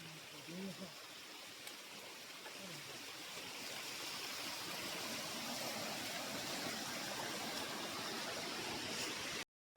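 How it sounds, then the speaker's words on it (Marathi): Water rushes steadily over rocks in a constant, close hiss of a small waterfall and stream in a forest on the Narmada, with a brief voice murmur at the start. "झुळझुळ वाहणारा जरा वरती छोटासा धबधबा तयार होतोय."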